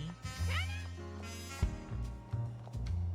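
A cat character in the video game Detective Pikachu Returns gives a few short meows over steady game background music.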